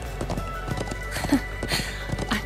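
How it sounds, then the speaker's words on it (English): Galloping horse hooves in the video game The Legend of Heroes: Trails of Cold Steel II, a quick, steady clip-clop drumming close by over dense game music with a brief whinny. "I'm glad I still remember how to ride a horse."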